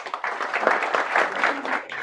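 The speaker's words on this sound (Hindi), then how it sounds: "उसके लिए ताली तो बनता है।" An indoor audience at a student strategy session claps together in a steady burst of applause, dense and moderately loud, with no talking over it.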